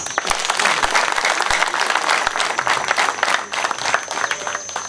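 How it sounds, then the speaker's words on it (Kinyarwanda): An audience at a Rwandan community gathering applauds in dense, sustained clapping that stays close and loud for about five seconds. "Nimwiha amashyi."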